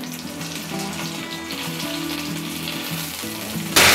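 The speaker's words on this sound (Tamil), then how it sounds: "இப்போ மீனெல்லாம் ஒரு சைடு நல்லா பொரியட்டும்." Fish fry in a hot pan just after being turned, giving a steady, close sizzle and crackle that runs evenly throughout, with a brighter burst of hiss right at the end.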